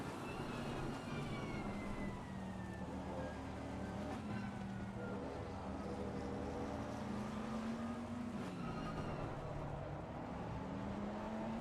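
Race car engine lapping Paul Ricard in a racing video game, a steady loud drone with rising and falling engine tones and a shift near the end, heard alone without talk.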